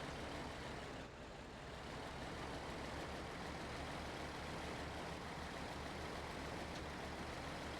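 Mack truck engine laboring in low gear in the SnowRunner video game, a loud, steady low rumble that holds constant throughout with no speech.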